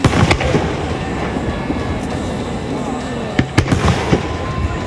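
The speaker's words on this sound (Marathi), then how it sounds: "यातील फटाके आकाशात 2700 फुटांपर्यंत पोहोचू शकतात।" Fireworks exploding high in the sky: several sharp bursts and crackling pops ring out over a continuous dense roar, with the loudest blasts at the start and near the end.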